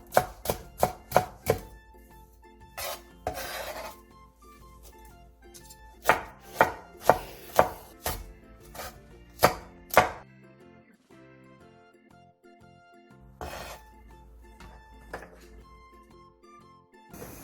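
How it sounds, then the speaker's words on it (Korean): A knife chops half an onion, a green onion and two chili peppers on a cutting board, with sharp, crisp strikes coming in quick bursts of several cuts separated by short pauses, heard close and loud with no talking. "양파 2분의 1개를 채 썰어주세요."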